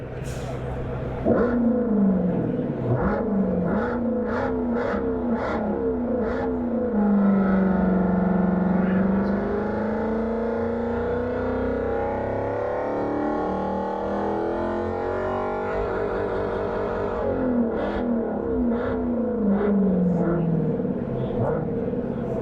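Borla speakers on a Ford Lightning at the SEMA show play a simulated Charger 392 V8 note, a deep rumbling idle that swells into rising and falling revs, with people talking nearby throughout.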